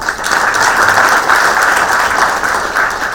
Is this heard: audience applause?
yes